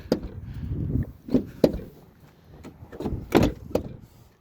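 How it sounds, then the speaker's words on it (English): Door of a classic Nissan car at an auction being closed carefully, heard as a few separate dull knocks and thuds close by, with quiet handling sounds between them and no talk. "So be very careful closing the door on this."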